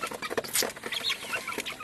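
Six broiler chicks on a farm, a couple with slightly runny noses, cluck and cheep in quick, overlapping bursts, close by and fairly busy, with no talking.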